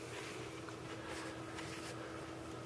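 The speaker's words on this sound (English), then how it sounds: "That's the water cooler fan and the case fan" An Antec Kuhler H2O 620 water cooler fan and a case fan run inside a computer with an AMD A10 Trinity processor, giving a faint, steady airy whir recorded close behind the machine, with no other sound over it.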